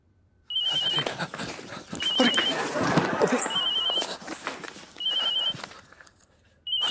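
A telephone rings in repeated short electronic trills with gaps between them while someone places a call, heard under a steady murmur of nearby voices and movement.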